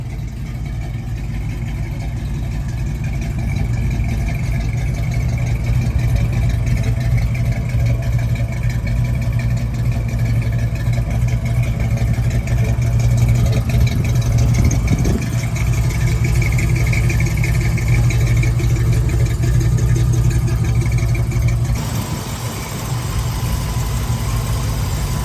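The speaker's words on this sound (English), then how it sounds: "It's got a nice little rumble at idle, a lot better than that single exhaust." A 1975 Ford Bronco engine idles with a low, steady rumble through dual exhaust, continuous and close, with a brief dip near the end.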